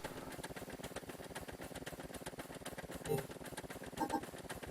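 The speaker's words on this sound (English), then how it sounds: "Now we can turn the engine on." A faint engine hums steadily in the video game Scrap Mechanic, running on a player-built craft, with a continuous low rhythmic drone and two brief clunks near the end.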